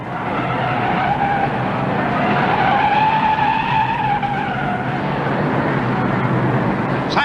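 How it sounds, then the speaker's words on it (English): A race car spins and slides in the first turn at the 1959 Indianapolis 500, giving a loud, sustained tire skid with a wavering squeal over steady engine roar for several seconds. "In the first turn, a spin."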